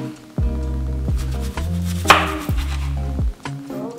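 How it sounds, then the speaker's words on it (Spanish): A knife cuts potato and onion on a board, with about six firm, evenly spaced chops, each thud followed by a brief ringing tone, close and clear without speech. "Primero, corte la patata. Luego, corte la cebolla."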